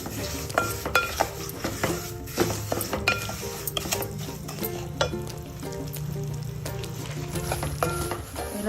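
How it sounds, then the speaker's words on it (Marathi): Semolina (rava) roasts in a pan over low-to-medium gas for a sweet prasad, with a soft steady sizzle under repeated scraping, clinking spoon-on-pan stirs close by. "मी लो टू मीडियम गॅसवरच करते, म्हणजे छान आपला रवा छान खमंग भाजला जातो"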